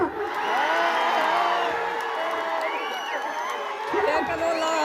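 A crowd at a live comedy show in Tonasihal Tanda cheers and whoops, with rising and falling shouts and excited voices blending over a murmur of audience noise and only light clapping.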